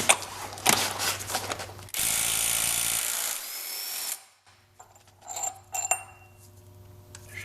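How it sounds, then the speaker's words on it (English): Power tool loosening the left-hand-thread crank bolt on a Jaguar F-Type (X152), loud close ratcheting and whirring bursts, then a quieter stretch with scattered metallic clicks and clanks. "We're going to try to undo the crank bolt here."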